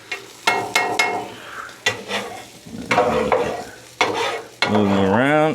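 Eggs cooking on a griddle, with a steady close sizzle under repeated scraping and tapping from a metal spatula, ending in a drawn-out scrape.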